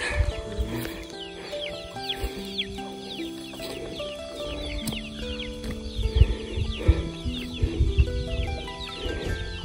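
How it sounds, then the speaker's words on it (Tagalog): Chickens cluck and chatter in a busy yard, with bird calls and intermittent thumps and footsteps, louder bursts toward the end. "Ang dami niyang manok."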